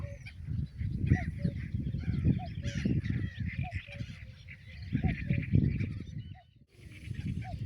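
A flock of domestic ducks quacks and a single goose honks repeatedly over a busy outdoor background on a riverside canoe trip, with a few brief calls standing out clearly.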